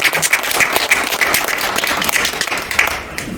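An audience at a People Power Party Christian support group meeting gives loud, steady applause throughout, with scattered sharper claps standing out from the wash.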